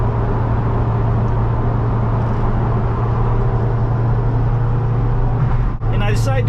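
Inside a stripped-out, gutted Dodge Challenger 1320 on a long road trip, a steady loud engine drone and road roar with a strong low hum, continuous throughout and close.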